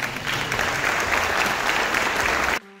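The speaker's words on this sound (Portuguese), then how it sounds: "Vamos receber uma salva de palmas." A crowd applauds at a business breakfast, with steady clapping for a couple of seconds before it cuts off abruptly.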